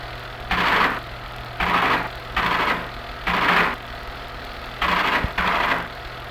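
A 16mm film printer runs a print with the A roll in a 1970s film lab. It makes a rhythmic mechanical chugging in repeated short bursts, evenly spaced over a low constant machine hum.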